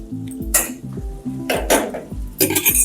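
A metal lid lifted off a pot of green-masala chicken after five minutes of covered cooking, heard as a few close clanks and scrapes of metal on metal with short resonant rings between them.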